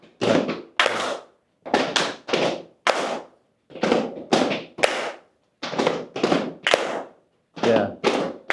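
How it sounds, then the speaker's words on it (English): A group stamps in unison and claps together in a steady repeating pattern, left step, right step, clap, with short pauses between each bar, loud and close. "Okay, left, right, clap."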